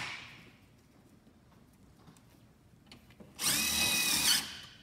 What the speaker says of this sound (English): screw them down with our cordless